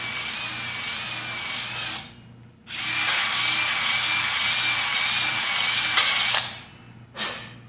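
A 7/8 hone spins inside a bicycle seat tube, giving a loud, steady metallic whirring grind in three bursts: a short run, a long continuous stretch, then a brief final spin.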